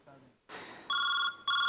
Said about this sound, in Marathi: परत रिंग वाजते भाई, रिंग वाजते.